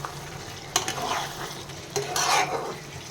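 Chicken rezala with a splash of kewra water is stirred in a pan, with a steady close sizzle of frying broken by sharp spatula knocks against the pan and sweeping scrapes.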